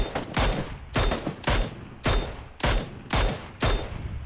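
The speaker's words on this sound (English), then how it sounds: "They're shooting at me." Gunfire in PUBG cracks out in seven evenly spaced shots roughly half a second apart, each a sharp loud blast with a short decaying tail, no voices.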